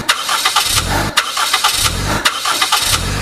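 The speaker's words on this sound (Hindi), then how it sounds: "इंजन हिला, ग्रर ग्रर की आवाज आई, पर स्टार्ट नहीं हुआ।" A car engine cranks repeatedly without catching, a loud, close, rhythmic grinding of the starter in three rising bursts.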